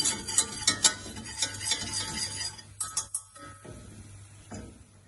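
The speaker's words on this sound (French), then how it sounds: "quand on arrête de fouetter, on voit que ça commence à mousser" A whisk beats a mixture in a pan over heat for eggs Florentine, brisk metallic clinking strokes in an uneven rhythm over a faint sizzle, close and alone.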